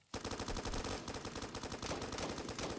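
Rapid automatic fire from an AUG A3 rifle in Roblox Blackhawk Rescue Mission 5, a loud, continuous rattling burst of closely spaced shots lasting a few seconds.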